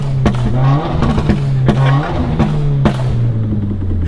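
A Stage 3 Subaru WRX accelerates hard nearby, its loud engine droning and rising, broken by several sharp bangs and shifts as the revs climb and fall.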